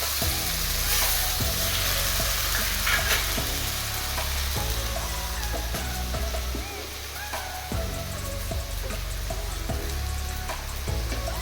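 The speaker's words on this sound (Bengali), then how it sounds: "বেটে রাখা মশলাগুলোর উপর হলুদ, আন্দাজ মতো নুন দিয়ে কষতে লাগলাম।" Ground spice paste with turmeric and salt sautés over fried onions in a pan, a steady sizzle broken by regular scraping strokes of a spoon stirring the mixture.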